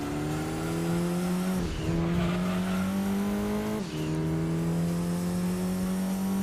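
Race cars in Gran Turismo 2 roar at a steady high pitch, with two brief dips as the engine shifts or lifts and tires squeal faintly, loud and continuous with no talk.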